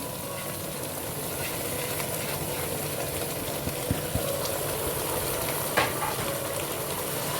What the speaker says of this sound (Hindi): इसको अब हम भूनेंगे।